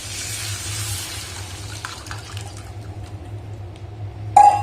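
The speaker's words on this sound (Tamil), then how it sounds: "நம்ம மிக்ஸ் பண்ணி வச்சிருந்த புளி தண்ணி, தக்காளி பழம், மல்லி இலையெல்லாம் போட்டு வச்சிருக்கிறத சேர்த்துடலாம் இதுல" Tamarind water with tomato and coriander leaves is poured into a pot of rasam, a steady liquid pour that ends in a sharp splash and clatter near the end.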